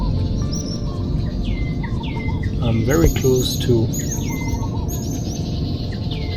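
A small bird calling from mangroves at about 15 meters, repeated short chirps and downward whistles over a steady noisy background, with someone speaking briefly.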